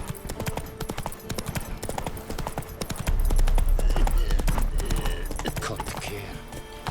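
Roach galloping in The Witcher 3, with fast, loud, rhythmic hoofbeats that thicken into a heavier rumble partway through, set against game ambience.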